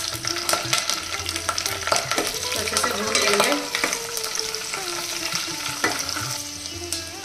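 A tadka of garlic, chilies, round chilies, curry leaves, mustard seeds, cumin and fenugreek fries in hot oil, hissing loudly and steadily up close while a spoon stirs and scrapes the pan, with crackles scattered throughout.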